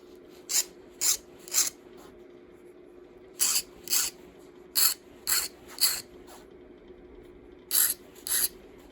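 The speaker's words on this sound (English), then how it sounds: "But I might need to file it just into a bit of a sharp point." A file worked against a small Torx screw to shape it into a sharp point while dismantling a Dyson DC47 canister, heard as short rasping strokes in small clusters with gaps between them over a faint steady background hum.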